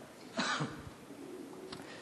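A single close cough from a lecturer during a talk on creation science, a short throaty burst near the start followed by quieter room tone and faint throat noise.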